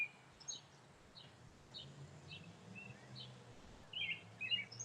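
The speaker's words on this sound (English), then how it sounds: "Lots of birds out tonight." Birds chirp and tweet outdoors in the evening, with scattered short calls at a moderate distance over quiet low background noise.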